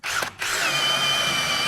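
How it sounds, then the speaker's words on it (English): A power drill bores into wood for a toilet water supply line during bathroom plumbing work, a brief spin-up and pause, then a loud sustained whirring grind, close and without speech. "we're going to go ahead and drill these out."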